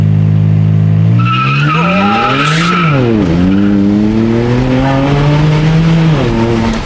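A BMW 335i with the N54 turbo engine squeals its tires in a loud, sustained skid, the engine note rising and falling through revs for several seconds with no talking.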